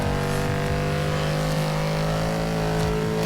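A luxury muscle car's engine hums loud and steady as the throttle is gently applied, a close, continuous droning note with rich low harmonics and no voices.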